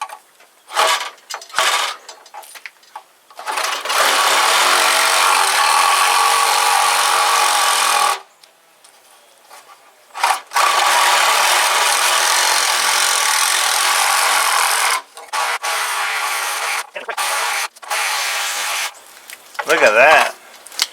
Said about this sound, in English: So these scraper blades that fit on the end of your sawzall work like a champ.